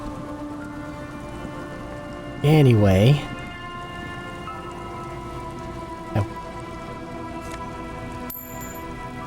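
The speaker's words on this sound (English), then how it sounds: "It's also raining!" Steady rain ambience from the video game Disco Elysium hisses evenly throughout, with a short spoken word breaking in near the start and a faint brief click later.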